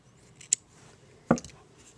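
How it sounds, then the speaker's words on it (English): Scissors snip off a yarn tail during crochet work on a finished beanie, giving two short, close, crisp cuts about a second apart against a quiet background. "Of course, cut it off."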